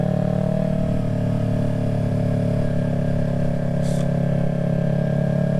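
A Yamaha R3 motorcycle fitted with a bigger rear tire is being ridden, its engine holding a steady, loud, continuous drone throughout with no change in pitch and no talking.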